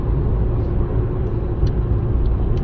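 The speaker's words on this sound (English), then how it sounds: "Now, interior noise, I don't know if you guys can hear it well, but I wouldn't say it's quiet." Steady low rumble of road and tire noise inside a 2022 Subaru Ascent SUV cruising with the sunroof closed, a constant moderate drone with no talk over it.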